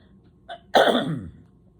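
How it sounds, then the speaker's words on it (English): A brief throat clearing nearby, a small catch followed by a harsher rasping burst, with no talking. "Have to clear my throat."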